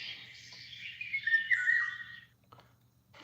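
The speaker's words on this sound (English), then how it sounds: "bird sounds" Recorded birdsong played back from a sound machine: bright whistled chirps and trills run steadily for about two seconds, then fade to a quiet low hum with a couple of faint short calls near the end.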